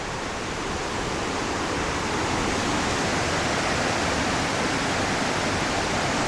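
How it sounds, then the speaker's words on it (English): Waterfall in Jardín, Colombia, heard as a steady, loud broadband roar of falling water that stays constant throughout with no voices. "is that just the waterfall?"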